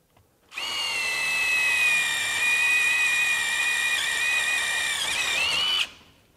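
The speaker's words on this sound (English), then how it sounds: "take an eighth inch drill bit, take our impact wrench, I'll do a starter hole" A power drill whines steadily at high speed for about five seconds, boring an eighth inch starter hole, close and loud, pitch rising slightly just before it stops.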